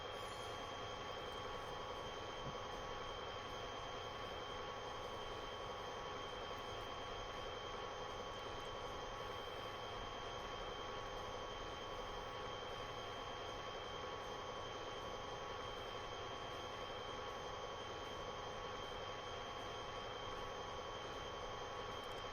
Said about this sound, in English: So we're passing through Maidstone Barracks Station and then under the line between Ashford and Otford.